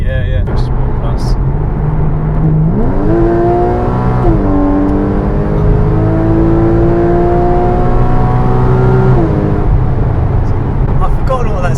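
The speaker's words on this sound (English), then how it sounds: "The exhaust is so quiet on the 718 GT4, whereas here you're getting that noise into the cabin." Porsche Cayman 981 GTS exhaust heard from inside the cabin, a loud, steady engine drone that climbs in pitch through the gears under accelerating revs, with people talking over it.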